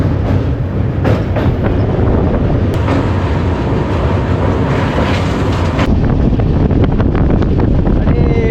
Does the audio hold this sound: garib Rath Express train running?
yes